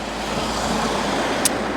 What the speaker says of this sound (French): malgré les voitures dans la rue